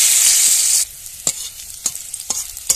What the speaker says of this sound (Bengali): দেখো পেঁয়াজটা একটু ভেজে নিয়েছি।